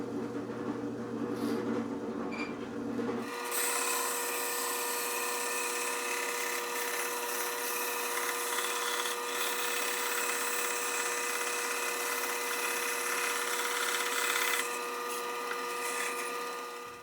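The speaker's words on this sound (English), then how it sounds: "now I'm going to drill the axle hole in the middle with the 3/8 inch Forstner bit" A steady, loud machine whine of a drill press boring into wood with a 3/8 inch Forstner bit, running continuously after a brief quieter start, with a high-pitched tonal drone.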